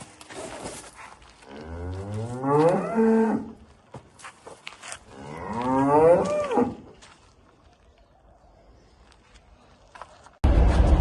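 Cattle at a livestock sale of Swiss (Schwyz) breed cows in Kara-Balta, Chüy region, Kyrgyzstan: two long, loud, close moos a few seconds apart, with some rustling around them and a sudden loud burst of noise at the end.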